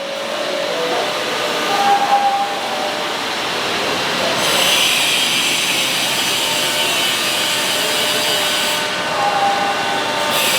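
A CNC machine cuts motorcycle alternator covers under sprayed cutting fluid on a factory floor, giving a continuous loud grinding hiss with occasional brief squealing tones and a swell of brighter spray noise midway.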